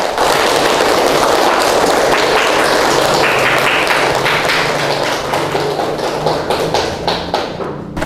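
Schoolchildren clapping together in a classroom, dense loud applause sustained throughout and slowly thinning toward the end.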